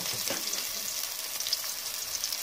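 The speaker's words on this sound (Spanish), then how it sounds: "solo una pasadita que esté bien doradita nuestra cebolla" Chopped onion frying in lard in a clay cazuela, a steady soft sizzle with light crackle and occasional stirring, close and continuous without talk.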